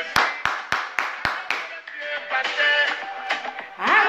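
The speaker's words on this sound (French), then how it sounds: "On applaudit pour l'artiste." Audience clapping for a performer at a Women's Day celebration: a short run of sharp, rhythmic claps in the opening second and a half, then giving way to voices and music.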